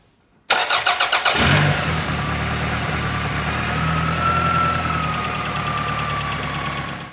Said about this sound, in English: I'll start the engine for a couple seconds so you guys can see the engine is running